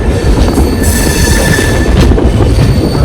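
A train moves close by at Kochuveli railway station, its loud, steady rumble of wheels on track overlaid with a high metallic squeal that runs through the whole stretch.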